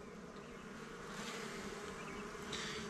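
Honeybees hum around an opened hive frame in a steady, close, quiet buzz that swells slightly as bees move near.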